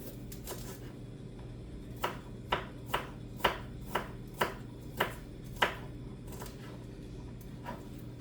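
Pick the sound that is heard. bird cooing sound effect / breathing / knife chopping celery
knife chopping celery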